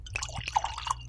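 Imperial porter poured from a bottle into a glass, with close, liquid gurgles and drips trickling unevenly over about a second and no talking.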